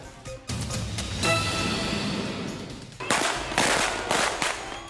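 Dense strings of firecrackers crackle and pop in rapid, continuous bursts, loud and sharp, with a brief dip before another furious volley erupts, during New Year celebrations in the Philippines.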